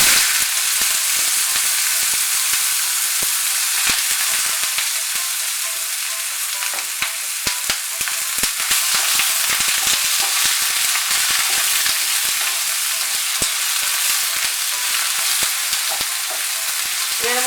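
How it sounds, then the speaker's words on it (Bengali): Potato peels frying in a pan with black cumin seeds, a steady loud crackling sizzle throughout with frequent sharp spatter pops and occasional scraping as the peels are stirred; no voices. "কালো জিরেটা নাড়াচাড়া করে এর মধ্যে আলুর খোসাগুলো দিয়ে দেব।"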